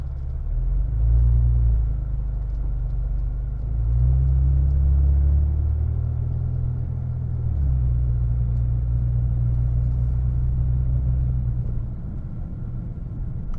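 Steady low engine rumble from a 2011 Saab 9-5 Aero 2.8-liter turbo V6 driving along, with a deep grumble that swells slightly as it accelerates, continuous throughout and close by.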